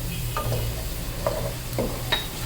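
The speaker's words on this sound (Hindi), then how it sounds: "इसको भी, ज़ीरे को भी थोड़ा सा भून लेंगे।" Cumin seeds frying with onions in a hot pan, a steady low sizzle broken by a few soft stirring scrapes and light clinks, close and fairly quiet.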